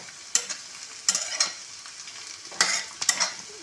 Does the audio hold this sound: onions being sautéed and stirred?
yes